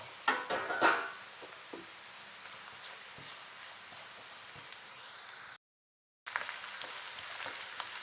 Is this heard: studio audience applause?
no